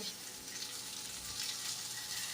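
A snail and egg curry cooks in a pan with a soft, continuous sizzle and faint bubbling, heard up close and fairly quiet throughout.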